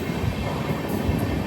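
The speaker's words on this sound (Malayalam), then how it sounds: "ട്രെയിൻ ഇതാ പാറശാല റെയിൽവേ സ്റ്റേഷനിലേക്ക് എത്തിയേ." Amrit Bharat Express train rolling into Parassala railway station, a steady close rumble of wheels and carriages with continuous rail noise and no talk.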